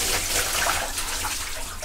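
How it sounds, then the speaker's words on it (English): Dirty bathwater pours and gushes out of a tub in a loud, continuous broad rush of water, close and steady throughout, with no talking. "Alright, time to dump this dirty water."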